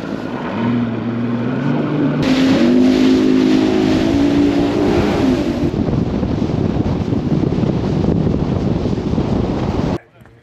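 A fishing boat speeds back across an Oregon lake, its motor droning and shifting pitch under heavy wind buffeting and rushing water, loud and constant until it cuts off abruptly at the end.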